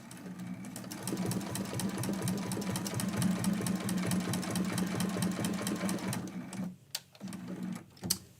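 A sewing machine stitching a quilt block runs in a fast, steady mechanical rhythm close by for about six seconds, then stops, followed by a few short clicks and brief handling sounds.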